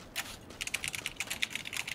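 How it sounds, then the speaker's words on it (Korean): Rapid clicking on a computer keyboard near a stand microphone at a gaming PC, an irregular burst of crisp keystrokes with no speech. "키보드 소리 다 들리죠?"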